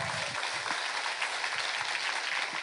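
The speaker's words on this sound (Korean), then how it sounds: "박수로 영광 돌립니다" A church congregation applauds at a Friday worship service, a steady dense wash of clapping running alone throughout.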